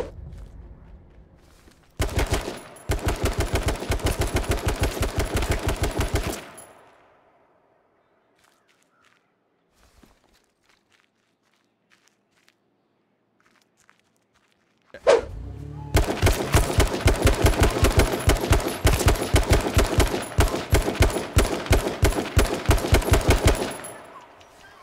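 Loud rapid automatic gunfire from the H1Z1 King of the Kill video game, one long burst of shots, then near silence for several seconds, then a second sustained burst of rattling rounds.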